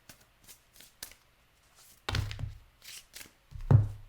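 Tarot-style cards shuffled and pulled from a deck, with soft riffling flicks followed by two louder, thumping bursts of cards being handled and drawn, close and with no talking.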